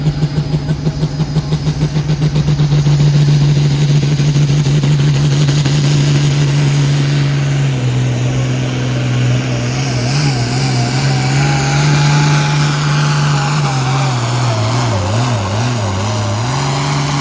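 A pulling tractor's engine roars steadily and loud at an Iowa truck and tractor pull, its drone dipping and wavering in pitch as the run goes on, with faint announcer talk beneath.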